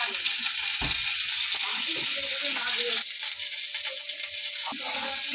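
Mustard seeds tempering in a small amount of oil for a chutney, giving a steady close sizzle with faint crackles throughout, a few soft kitchen knocks mixed in.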